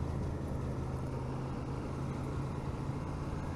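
A BMW motorcycle pulls away, its steady engine drone loud and close, blending with broadband road and wind noise throughout.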